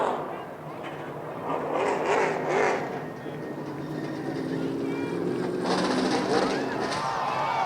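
Stock race cars racing at Lucas Oil Raceway in Indianapolis in a CRA Super Series event: a loud, continuous roar of engines from several passing cars, swelling and fading, with a commentator talking over it.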